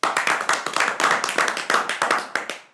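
Studio audience at a Tea Time talk show claps in a quick, uneven burst of sharp, close hand claps lasting a few seconds, with no talking.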